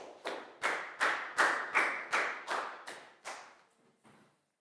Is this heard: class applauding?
yes